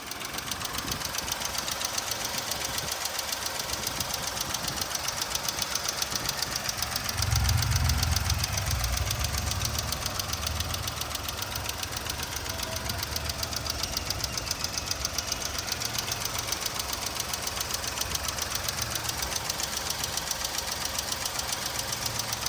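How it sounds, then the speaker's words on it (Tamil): A 2012 Volkswagen Polo petrol engine idles steadily for a long stretch with an even, ticking mechanical hum, briefly rumbling a little deeper partway through. "வண்டியோட இன்ஜின் நாய்ஸ்லாம் கேட்டுருப்பீங்க, சூப்பராக இருக்குது, தெளிவாக இருக்குது."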